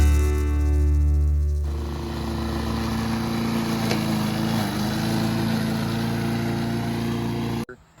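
Pedal-powered lawn mower fitted with a small engine runs steadily and close by, a continuous droning whir that holds level for several seconds before cutting off abruptly near the end.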